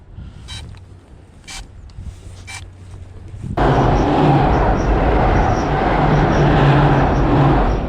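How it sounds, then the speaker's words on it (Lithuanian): A train passes close by: after a quieter stretch with a few faint clicks, a loud, broad rumbling roar starts abruptly and holds steady to the end. "Kun tik pravažiavo traukinys"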